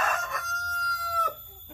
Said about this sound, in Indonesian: ini penampakan ayam pelung, teman-teman